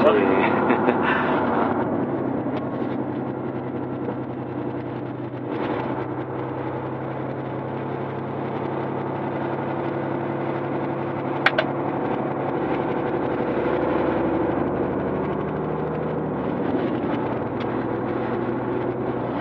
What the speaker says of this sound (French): c'est que le moteur